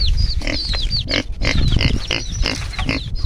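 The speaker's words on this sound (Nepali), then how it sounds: "यो चाहिँ सुँगुरको खोर है गाइजहरू" Pigs grunt and squeal continuously in a close, noisy jumble inside a pig pen, with several animals calling over one another.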